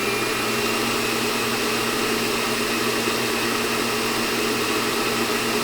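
A Farberware stand mixer runs at speed 6 with a steady, loud motor whine and whir that holds constant throughout, close by and without talk.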